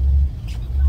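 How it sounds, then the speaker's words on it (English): Inside a moving school bus, a steady, loud low engine rumble runs throughout and dips briefly, while a faint voice passes in the middle. "we're on a school bus"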